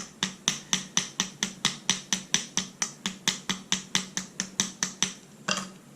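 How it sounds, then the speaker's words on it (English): Rapid, evenly spaced small hammer taps on a straight razor's pivot resting on a household metal surface, about twenty sharp metallic clicks in a steady rhythm, close and fairly loud, with no talking. "And I'm using the second hammer because this is a metal surface that a lot of us have"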